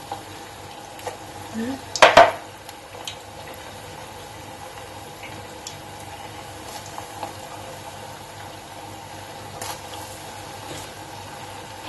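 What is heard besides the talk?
potato cookies frying in hot oil in a pot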